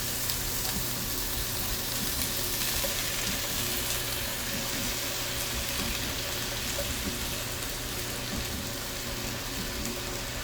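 Chopped vegetables sizzle in oil in a pan, a steady, even frying hiss with occasional stirring scrapes, close and continuous with no talking.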